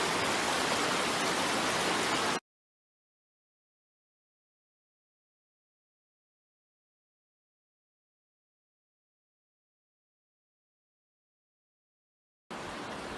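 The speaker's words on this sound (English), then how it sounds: "Take a look at the water coming down the Huon" Fast, swollen flow of the Huon River rushes loud and steady for about two seconds close by, cuts to silence, then returns briefly at the end.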